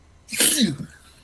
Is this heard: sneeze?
yes